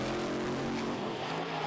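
Bentley and Sunbeam Stiletto drag racing cars launching off the line at a doorslammer drag event, a loud, steady engine roar with sustained tonal drone lasting the whole moment, no voices.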